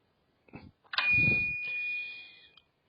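A short synthetic email notification chime: a couple of quick tones, then a bright sustained ring that holds for over a second and cuts off.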